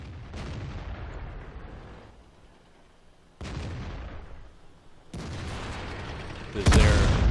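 Tank cannon fire from AMX light tanks in World of Tanks, a few heavy booming shots spaced a second or two apart, each with a sharp onset and a long fading tail, the last one loudest and closest.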